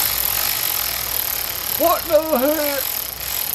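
A power tool works on a stripped bolt, droning steadily and loudly throughout, while a man briefly exclaims partway through.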